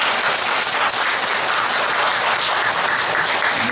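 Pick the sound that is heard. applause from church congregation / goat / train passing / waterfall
applause from church congregation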